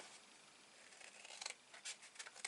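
Scissors snip through the top of a paper gift box, a short series of crisp, close cuts that grow more distinct toward the end, with no voices.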